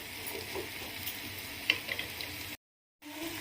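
Ridge gourd pieces frying in a pan give off a soft, steady sizzle with faint ticks, which breaks off into a short silence before resuming.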